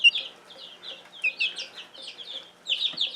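Young chicks in a coop give rapid, high-pitched peeping and soft clucking, many small calls overlapping in a busy, steady chatter.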